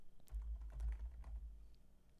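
A short run of quick keyboard taps and clicks, close and fairly quiet, with a soft low thump underneath.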